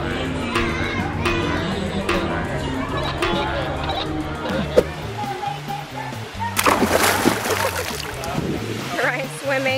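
Children splash and play in an indoor swimming pool, with a steady wash of water and lively young voices throughout and a louder burst of splashing toward the end.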